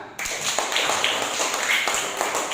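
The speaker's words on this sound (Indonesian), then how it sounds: "Berikan tepuk tangan." A church congregation gives a round of clapping during a sermon, moderately loud and slightly uneven, with scattered sharper claps over a steady patter.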